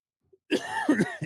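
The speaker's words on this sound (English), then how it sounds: "I got to cough again." A single throaty cough or throat-clear, close and fairly loud, following a brief moment of silence.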